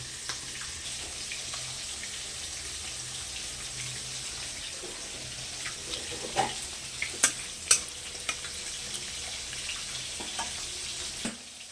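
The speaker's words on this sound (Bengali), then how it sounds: "পেঁপের তরকারির জন্য আগে আমি তেজপাতা এবং জিরেটা ফোড়ন দেবো" Bay leaves and cumin seeds sizzle in hot oil for tempering a papaya curry, a continuous soft frying hiss with a few louder crackles and utensil taps midway.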